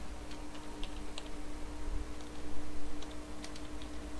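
Fingers typing a router IP address on a computer keyboard, a light, irregular patter of quiet key clicks over a faint steady hum, no voices.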